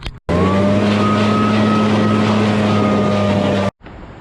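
A blower engine on farm cleaning equipment drones at a loud, steady pitch for several seconds, then cuts off abruptly, close up with no talking.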